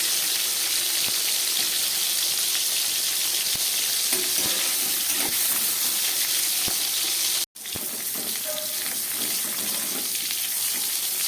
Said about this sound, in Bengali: বেগুনগুলো অনেকটাই ভাজা হয়ে গেছে, এর থেকে আর বেশি ভাজবো না।